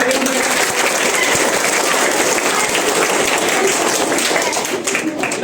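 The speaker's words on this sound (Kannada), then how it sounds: "ಅವರಿಗೆ ಚಪ್ಪಾಳೆ ತಟ್ಟುವುದರ ಮೂಲಕ" Students at a school parliament election applaud the newly elected school prime minister: a steady, dense patter of many hands clapping throughout, with faint voices mixed in.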